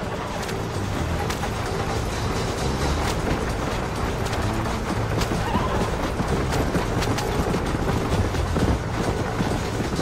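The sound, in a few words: horses neighing and hooves pulling wagon, Red Dead Redemption video game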